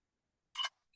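An iPhone camera shutter in night mode fires a brief, close burst of clicking that blends into a double click near the middle of an otherwise quiet moment, followed by a faint tiny chirp.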